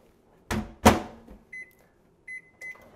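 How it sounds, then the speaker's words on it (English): A microwave oven used to heat frozen berries gives two loud thumps as the door shuts, then short electronic beeps as the timer is set, with quiet gaps between. "Put it in the microwave."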